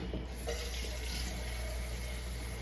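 Water running steadily from a kitchen tap while making chili, a continuous close hiss with no talk over it.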